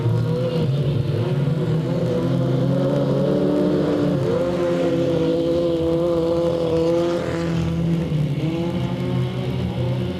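Race cars at Delta Speedway running bumper to bumper down the back straightaway, a loud continuous roar of several engines with layered whining harmonics, sustained throughout with no gaps.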